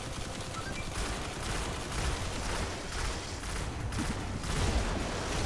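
Continuous dense gunfire in the video game Destiny during a Nightfall strike against the Fallen S.A.B.E.R. boss, rapid overlapping shots and explosive bursts at steady loudness throughout, with no talk.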